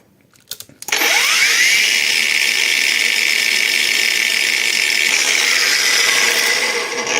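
A Heimerdinger LB184 cordless angle grinder starts with a few clicks, spins up quickly, then holds a loud, steady high whine at first speed that eases slightly toward the end.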